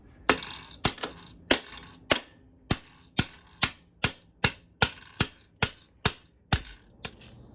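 A hammer strikes a metal punch on the suspension linkage of a Honda CR125 motorcycle about fourteen times in a steady rhythm, each hit a sharp, ringing clank up close with brief silence between.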